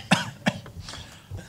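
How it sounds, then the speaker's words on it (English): A person coughs twice in quick succession, sharp and close, followed by a few softer throat sounds and a faint third cough at the end, in a conference room during a broadcasters' regulatory presentation. "This is where I start coughing."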